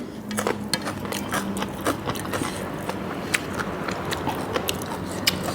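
Crunchy, close chewing of spicy papaya salad with rice noodles and fresh vegetables: steady wet crunching and biting, with sharp crisp snaps throughout.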